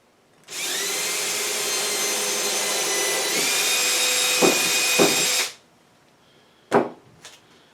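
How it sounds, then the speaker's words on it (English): A power drill bores into the end of a wooden dowel, running steadily for about five seconds with a slight pitch shift partway through. It stops, followed by a few knocks and a brief clatter. "I'm going to just drill a hole in the end of it."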